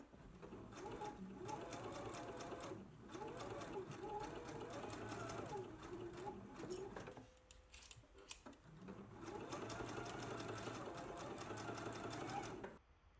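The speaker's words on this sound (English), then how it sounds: "Now that we have it pinned, let's baste in place." A home sewing machine runs in long steady bursts while basting lace in place on a McCall's M8530 garment. It hums close and loud, stops briefly in the middle, then runs again. No one speaks.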